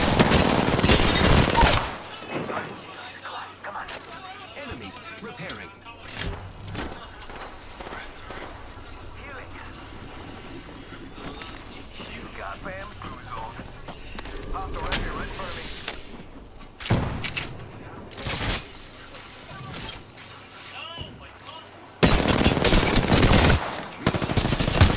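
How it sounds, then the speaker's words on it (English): Gunfire in the Apex Legends video game, dense bursts of rapid shots at the start, middle and end with quieter stretches between, as players talk throughout. "Opening fire on the enemy."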